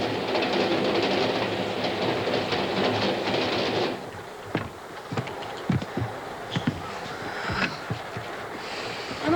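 A passenger train running on its rails, a steady rumbling roar for the first few seconds that gives way to quieter rolling with sharp intermittent clicks and clacks of wheels over track joints.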